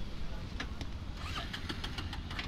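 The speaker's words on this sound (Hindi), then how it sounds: "देखिए, चालू ये बाइक नहीं हो रही," A motorcycle engine cranks again and again without catching during a bike-theft-prevention helmet trial, a steady churning drone with a few sharp clicks, fairly loud and close.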